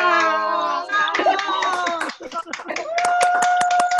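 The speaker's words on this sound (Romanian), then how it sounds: "haideți să-i aplaudăm!" Clapping for child actors after a children's theatre performance, hands beating in quick bursts under overlapping cheering voices and excited talk, close and fairly loud.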